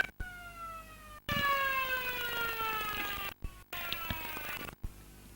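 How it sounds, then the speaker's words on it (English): A loud, wavering siren sounds at a Geelong District Football League country match between Anakie and Bannockburn, marking the end of a quarter with sustained overlapping tones broken by a few brief gaps. "but there's Siren! Siren."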